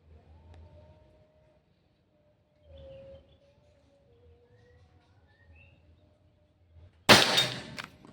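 A single sharp, loud air gun crack rings out near the end after several quiet seconds, with faint bird chirps in the background.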